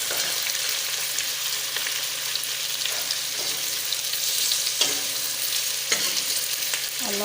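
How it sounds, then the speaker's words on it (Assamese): Onions sizzle steadily in a pan of hot oil with whole spices, close and continuous, while a spoon stirs them with occasional scraping clinks. "অলপ মিছাবলীয়া কৰি মই ভাজি লৈছোঁ।"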